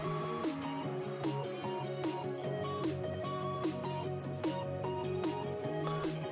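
An electronic remix section for a Monstercat contest, with a heavily filtered vocal over a steady drum beat of crisp snare hits and ticking hi-hats, playing continuously with no speech.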